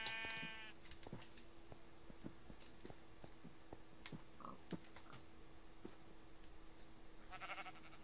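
A Minecraft sheep bleating in the game, short repeated calls scattered over steady background hum and faint in-game clicks, with a brief higher electronic tone at the start.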